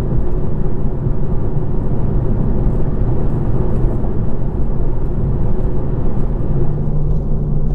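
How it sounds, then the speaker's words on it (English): Steady, loud road noise heard inside a moving car on a rough textured road, a dense low rumble and hiss that holds constant throughout, with no voices. "Here is the sound of the road noise by itself."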